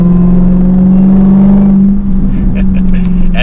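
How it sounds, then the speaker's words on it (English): A Dodge Charger SRT Hellcat Redeye under light throttle gives a steady, loud low drone with a sustained whine, heard from inside the car. The tone wavers slightly partway through, and a voice talks over it toward the end. "Just barely touching the gas, you can hear that whine."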